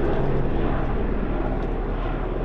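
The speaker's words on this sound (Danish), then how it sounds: "Der kommer lige en helikopter." A helicopter flying overhead near Preikestolen in Norway, a loud, steady engine and rotor roar that fills the whole moment without letup.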